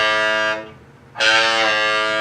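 A guitar played with a part pressed up and moved down, giving a buzzy, harmonic-rich electric tone that drops away to near silence, then surges back bright and sustained, loud and close with no talking.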